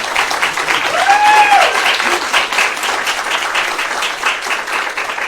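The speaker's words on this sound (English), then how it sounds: "Jacqueline, can you please stand up and just everybody give her a round of applause?" Audience at an academic management workshop breaking into sustained applause, dense steady clapping from a room of people with a few voices calling out beneath it.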